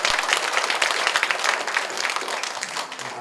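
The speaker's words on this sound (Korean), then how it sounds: "박수로 환영해 주시겠습니다." A church congregation at a Sunday worship service claps in welcome for a young man back from military service, with steady, lively applause filling the sanctuary throughout.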